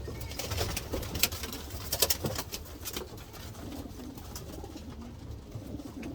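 Racing pigeons bred for 2021 cooing in a loft: soft, repeated throaty coos from several birds, close by, with occasional sharper rustles and wing flutters over a steady background.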